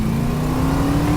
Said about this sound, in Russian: Сейчас я попробую нажать газ-пол, конечно, и продемонстрировать самому себе этот двигатель.